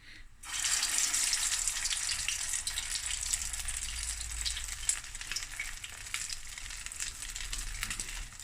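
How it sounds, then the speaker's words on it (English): Pilchard frikkadels fry in a pan of oil, giving a steady, dense crackling sizzle that starts abruptly and carries on evenly at a moderate level, with no voices. "you only fry it until it's nice and crispy on the outside"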